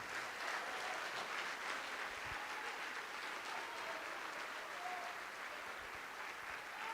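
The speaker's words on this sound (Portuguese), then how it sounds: "Vamos aplaudir ao nome de Jesus" A church congregation applauds in worship, a faint, distant, continuous wash of clapping that stays even throughout.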